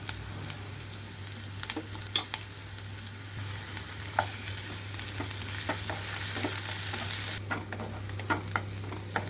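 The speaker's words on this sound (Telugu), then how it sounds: "ఉల్లిపాయలు మొత్తం కూడా సాఫ్ట్గా వచ్చే వరకు వేయించుకోవాలి" Onions frying in a pan with ginger garlic paste for a soya chunk and broad bean curry give a steady, hissing sizzle. Occasional spatula scrapes and taps cut through it, close and continuous, with no talking.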